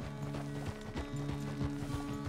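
Horse hooves trot in the Red Dead Redemption 2 video game, a steady run of near, even clip-clop beats over a constant low background hum, with no talking.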